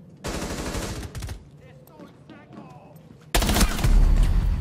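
Gunfire in Rainbow Six, with two loud bursts of rapid automatic fire separated by a quieter stretch of scattered sounds and brief voice fragments, and the second burst heavier and sustained to the end.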